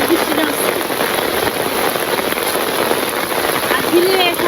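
Heavy monsoon rain falling in a Bangladeshi village, a dense steady patter on surfaces throughout, loud and close, with a voice speaking over it.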